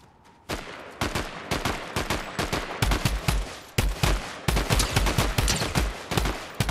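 Rapid gunfire from Fortnite assault rifles crackles in dense bursts, loud and near, nearly continuous after a brief quiet start, with no talk.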